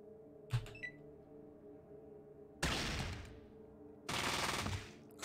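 Automatic gunfire in a modded Fallout game, two sustained loud bursts of rapid shots each lasting over a second, separated by a brief gap, with a short thump and electronic blip before them.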